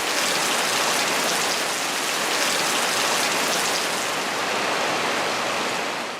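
Heavy rain falling steadily on surfaces in the Methirigiriya paddy-field area, a dense, unbroken wash of loud hiss that holds constant throughout with no voices.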